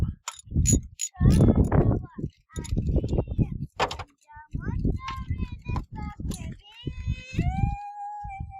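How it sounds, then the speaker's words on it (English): A young girl sings in the background, her melodic voice rising and falling in phrases through a garage while work goes on around a 1989 Chevy Cavalier Z24, with occasional clanks and a sliding bang. "That's my daughter singing in the background there."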